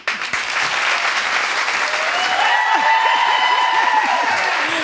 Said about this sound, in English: You had a big cheering section